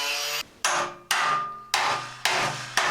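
Hammer blows tap a rusted panel section off an old Talbot Express camper van, five or six sharp, ringing metallic strikes spaced unevenly, close and loud with nothing else heard.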